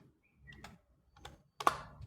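Computer keyboard used while entering figures into an Excel spreadsheet, giving a few faint, sparse key taps spaced irregularly in a quiet room, the last one slightly sharper.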